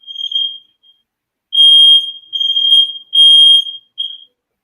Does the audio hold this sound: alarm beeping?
yes